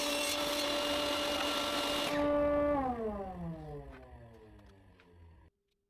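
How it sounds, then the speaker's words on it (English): A power saw cuts through an MDF board that will become the base plate of a chessboard. The blade screams loudly and steadily, then the motor cuts off and winds down in a long falling whine into silence. "I am cutting an MDF board that I will use as a bottom plate for the chessboard."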